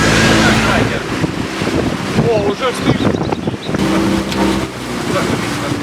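A large, roomy motorboat's engine drones over rushing water near Vylkove, Ukraine, with wind buffeting the microphone and a brief spoken exclamation partway through.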